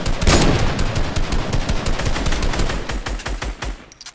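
Rapid automatic gunfire from a Fortnite match, loud close bursts of shots firing in quick succession before stopping near the end.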